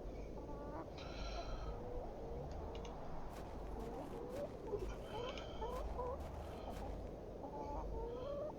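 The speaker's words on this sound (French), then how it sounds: "Une poule, trop bien." A chicken clucks in The Excavation of Hob's Barrow, a series of soft, repeated clucks over a steady low outdoor ambience with faint wind, with quieter calls scattered throughout.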